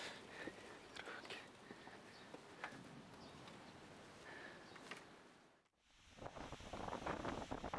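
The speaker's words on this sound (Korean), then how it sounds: "마을길을 벗어나니 들려오는 더욱 거센 바람 소리에 정신이 아찔합니다" Strong island wind sweeps over a village road on the Sinan coast in South Jeolla, a steady broad rushing roar with gusty buffeting against the microphone, dipping briefly before surging louder again.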